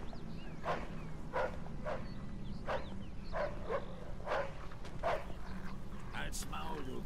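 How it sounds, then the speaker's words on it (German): A dog barks repeatedly in the Mafia 2 video game, sharp evenly spaced barks at moderate distance over a steady low ambient hum. "Mist, der Köter könnte Probleme machen."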